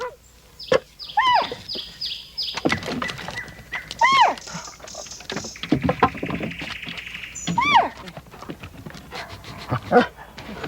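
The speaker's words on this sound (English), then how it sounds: "the dog's job is to scratch and bark to alert the handler to the area with the most intense scent" A search and rescue dog barks several times in sharp, separate bursts, close and loud, with panting and scuffling between the barks as it signals its handler.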